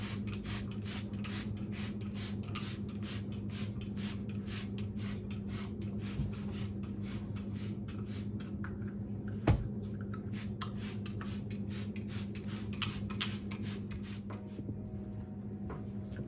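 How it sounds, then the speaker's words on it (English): A spray bottle of cleaner is pumped repeatedly over a granite countertop, making a steady run of quick, soft spritzes over a constant low hum. "I'm just going to go ahead and spray the countertop"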